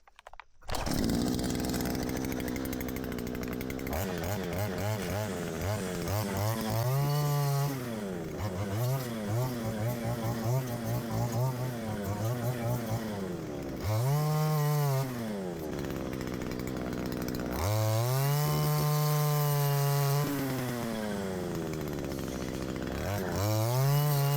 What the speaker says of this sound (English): I'm gonna take this little blade and kind of go through like some of these smaller trees that are standing